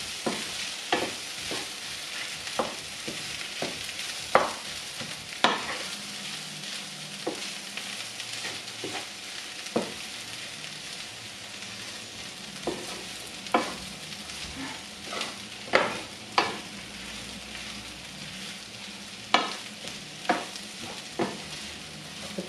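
Potato bonda filling being stirred in a pan, sharp spoon clacks and scrapes recurring irregularly over a soft constant sizzle.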